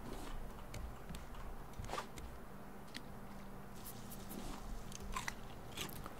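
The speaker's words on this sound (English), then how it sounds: "Not sure a potato should make that kind of noise when you bite into it." Crunchy bites into a baked potato, which is undercooked and still firm inside, outdoors on a raft on calm water, with a few sharp crisp crunches and quiet chewing heard close and soft.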